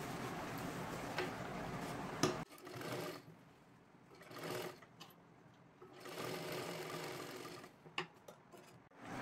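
A sewing machine stitches a little girl's lehenga dress in several short runs of rapid ticking stitches separated by quiet pauses, close and fairly soft.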